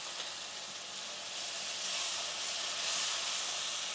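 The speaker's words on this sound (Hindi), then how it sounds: "अच्छी तरह मसालों की भुनाई कर लेंगे 2 से 3 मिनट के लिए" Spices roasting in a pan for daal mash give off a soft, continuous hiss and sizzle with no breaks. It swells slightly toward the end, faint but close.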